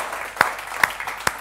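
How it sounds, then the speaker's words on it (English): Applause from a conference audience, steady crowd clapping with a few sharper claps standing out at regular intervals, close and moderately loud. "give me a round of applause"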